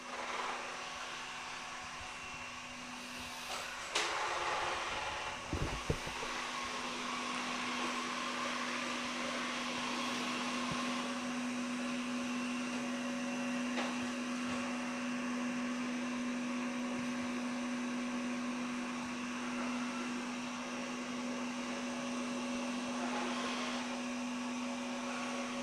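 A Samsung Powerbot R7040 robot vacuum runs with a steady, faint mechanical whine and hum, broken by a couple of small knocks and clicks.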